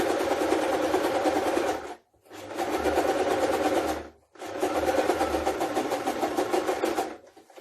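A sewing machine runs in three long bursts, stitching half-inch side seams on a skirt, each run a steady close rattling whir separated by brief pauses.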